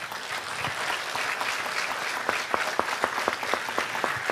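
A church congregation claps loudly and steadily during a Spanish-language sermon, dense applause with sharper individual claps standing out near the end.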